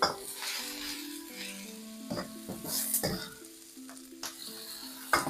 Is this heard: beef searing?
yes